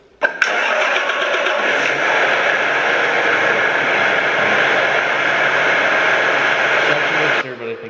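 A John Deere sprayer engine runs steadily at a loud, constant drone, starting abruptly and cutting off near the end, with a broad mechanical roar and no talk over it.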